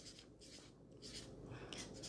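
Pen moving across paper while working through financial statement figures, a close, soft scratching in short strokes with brief pauses, quiet and alone.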